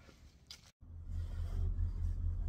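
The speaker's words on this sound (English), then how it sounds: "We are now in the truck on our way back" A truck rolls along the road with a steady low engine drone and tire rumble heard from inside the cab, building after a brief cut and holding at an even, fairly loud level.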